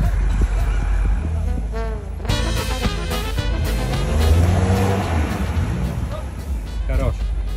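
A car's engine revs and strains as it drives out of a pit, the loud motor rising and falling across several seconds, with people talking over it.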